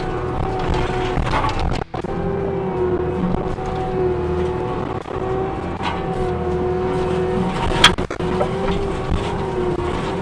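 A skid steer fitted with a disc mulcher attachment grinds down a tree stump, a loud steady engine drone with a continuous high-pitched grinding whine and brief dips and surges, no speech.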